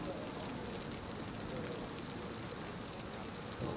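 Rain falls steadily in the video game Vampyr, a constant soft hiss of drops spread evenly throughout, fairly quiet with no clear breaks.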